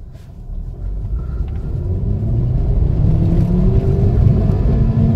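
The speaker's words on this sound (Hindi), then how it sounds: "गाड़ी का लिमिटर यहाँ पे सॉफ्ट कट लिमिटर गाड़ी में दिया गया है" A car engine in first gear revs steadily upward into a soft-cut rev limiter, a loud continuous drone that builds and then holds at a plateau as fuel is cut, with no talking over it.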